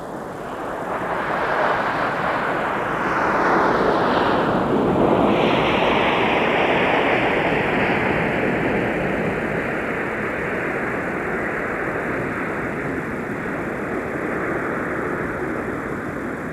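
Airbus airliner engines roar at Minneapolis–Saint Paul airport in winter, a broad sustained rush with a rising then falling whine as the jet passes, steady and fairly loud throughout with no talking.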